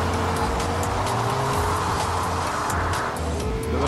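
A truck engine drones steadily in Fortnite, a continuous low rumble with a wavering pitch, close and loud throughout.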